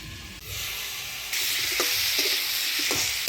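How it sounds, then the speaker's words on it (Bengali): Potatoes and cauliflower with turmeric and salt frying in a pan, a steady loud sizzle that swells partway through, with a few scraping stirs and clicks close by. "ঢাকা দিয়ে দিয়ে আলু ফুলকপিটা ভালো করে ভাজে নেব"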